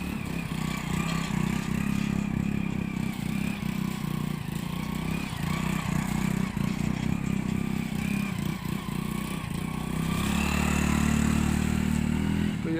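Motorcycle towing a bike trailer swings through a tight short turn, its engine running steadily and fairly close throughout, with a slight swell in engine sound toward the end; no talking.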